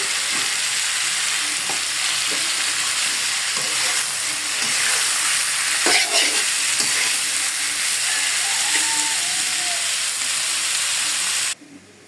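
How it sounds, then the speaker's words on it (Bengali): Bottle gourd leaves fry in a hot pan with a steady hiss and sizzle, broken by occasional scraping stirs, close and continuous until it cuts off near the end. "এখন দিয়ে দিব লাউ পাতাগুলো"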